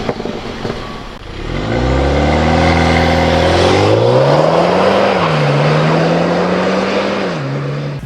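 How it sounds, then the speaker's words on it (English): A 2015 Mini Cooper S with a 2-liter turbocharged inline-4 revs up loudly in a Need for Speed game, the engine note climbing through gears, dipping at a shift, then holding steady before easing off. "The 2015 Mini Cooper S is powered by a 2-liter turbocharged inline-4 engine producing 189 horsepower."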